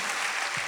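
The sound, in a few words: applause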